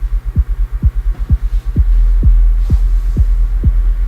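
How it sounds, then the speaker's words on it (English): A tuned electronic kick drum with LFO modulation thumps eight times at an even pace, each hit a deep pitch-dropping boom, loud and close, over a throbbing low hum that thickens halfway through. "So we're just skewing the signal of the kick a little bit."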